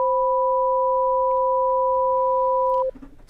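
A major seventh interval is played as two pure sine tones held together, a clean, dissonant electronic dyad sustained for nearly three seconds before cutting off, followed by a faint low blip.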